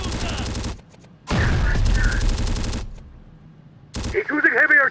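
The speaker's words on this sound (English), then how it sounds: "He's using heavy artillery on the city" Heavy artillery fire pounding a city in a combat video game, heard as loud sustained bursts of rapid gunfire broken by brief quieter gaps, with a sharper crackling burst near the end.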